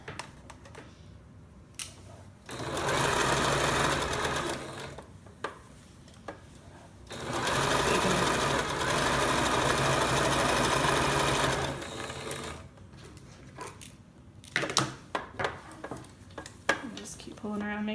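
A sewing machine stitches a short seam on reversible shorts in two long steady runs, whirring loudly and evenly, separated by quieter pauses with fabric handling and small clicks.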